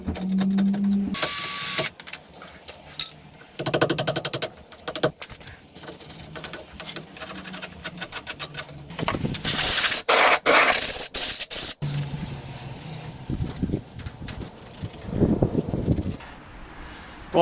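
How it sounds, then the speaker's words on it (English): Harsh, scratchy bursts of a wire brush scrubbing flaky rust off VW T4 Transporter brake parts, loud and close, in stop-start strokes with short pauses between them. "get the wire brush, just give it a little bit of a clean up"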